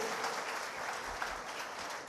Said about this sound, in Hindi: कृपया तालियों की गड़गड़ाहट हर एक घर तक पहुंचनी चाहिए